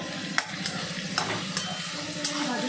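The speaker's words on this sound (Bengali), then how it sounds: "একটু ভাজা ভাজা হবে" Chowmein with green chillies fries in a pan, a close steady sizzle broken by repeated stirring scrapes and light clinks of the utensil on the pan.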